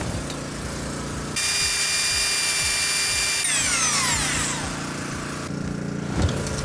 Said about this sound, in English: The drill isn't quite up to managing the 57 in one shot